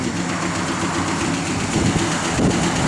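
A 1967 Plymouth GTX engine with an upgraded cam idles steadily and loudly up close, a constant rumble with a faint rhythmic exhaust tick from the passenger side running through it.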